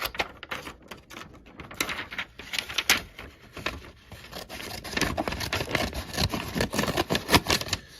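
Small Swiss Army knife scissors snip repeatedly up close, a quick series of sharp clicking cuts with slight scraping between them.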